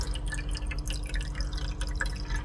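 Water poured into an AeroGarden reservoir and draining, with quick irregular drips and trickles close by over a low steady hum.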